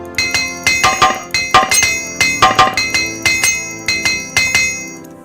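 Master Armorer's Hammer striking armor during repairs in Morrowind, a brisk run of bright metallic clinks repeating in quick clusters, close and ringing with no voices.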